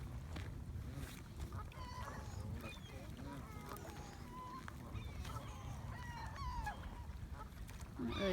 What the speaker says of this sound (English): What a pushy goose!